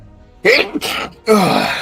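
A sharp sneeze erupts at close range after a quiet moment, a quick inhale followed by two explosive bursts, the second louder and longer, with no talking.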